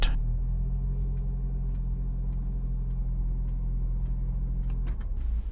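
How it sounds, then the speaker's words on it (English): A 2019 Lexus RX300 engine idles steadily, a continuous low hum heard close inside a multi-storey car park, with faint periodic ticks above it and a brief thump near the end. "The engine continues to work."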